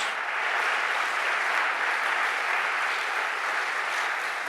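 Audience applause for young performers from the Rainbow Theater at a lecture event, a steady dense wash of many hands clapping that holds evenly for the whole stretch with no voices on top.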